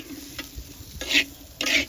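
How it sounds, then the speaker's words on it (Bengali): Potatoes frying in a pan with a little salt and turmeric, heard as short bursts of sizzling and stirring that come and go over a quiet background. "আলুগুলো ভেজে নিচ্ছি।"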